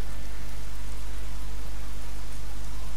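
Steady rain falling in the video game Days Gone, a dense continuous hiss of drops with a low hum beneath, constant and even throughout with no talk.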